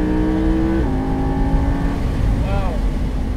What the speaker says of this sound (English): You get to hear the exhaust.